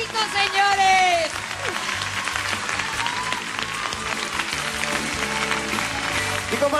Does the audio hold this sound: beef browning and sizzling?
no